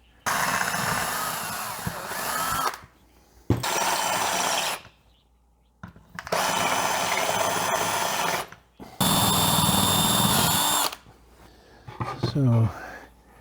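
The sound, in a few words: power drill drilling holes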